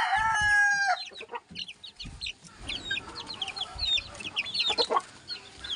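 Sweater pumpkin hatch gamefowl rooster crows loudly and close at the start, followed by a busy mix of clucking chickens and other fowl calling around the yard.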